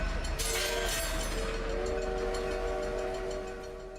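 A train rushes past with a sustained horn blast in a soulslike video game, a loud steady rumble carrying long tonal horn notes that fade slightly toward the end.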